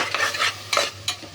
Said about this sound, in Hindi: इसको थोड़ा भून लेना चाहिए।